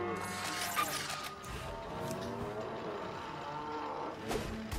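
Cows moo in South Park: The Stick of Truth, long low drawn-out calls over game background sounds, with speech mixed in.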